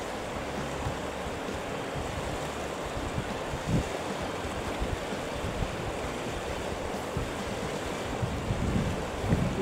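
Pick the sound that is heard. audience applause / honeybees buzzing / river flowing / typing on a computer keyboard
river flowing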